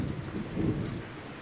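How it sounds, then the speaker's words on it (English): Heavy rain pouring outdoors with thunder, a steady low rumbling wash that swells briefly in the middle, continuous and moderately loud with no talking. "Oh my god, it's freaking pouring outside."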